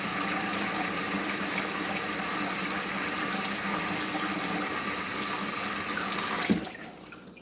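Steak rinsed under a running kitchen tap: a steady, close, continuous splashing gush of water that stops abruptly near the end, with no talk.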